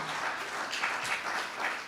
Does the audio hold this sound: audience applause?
yes